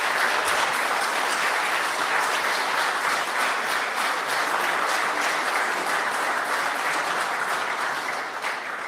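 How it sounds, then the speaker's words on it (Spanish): An audience at a political seminar applauds, with dense, steady clapping that fills the room and holds evenly throughout before easing slightly at the end. "veo que lo aplauden y le ponen harto énfasis"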